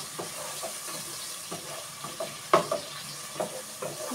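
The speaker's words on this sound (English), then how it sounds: "You stir them. Be careful so the hot oil can't burn you while cooking." A spoon stirs a cabbage dish with onion frying in hot oil, making repeated scraping and clacking strokes over a continuous close sizzle.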